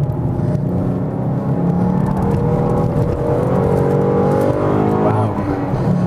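Ford Mustang V6 Track Pack engine droning steadily and loud from inside the car on a race track, a sustained whirring note that climbs in pitch as it revs, with no talk over it.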